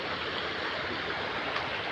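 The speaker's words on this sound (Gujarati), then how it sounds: "જોઈ લો આ પુલના કટિંગ ઉપરથી પાણી જાય" Floodwater from an overflowing river after heavy rain rushes over a bridge cutting, a continuous broadband roar of flowing water heard close and steady with no voices.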